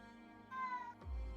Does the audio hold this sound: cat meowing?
yes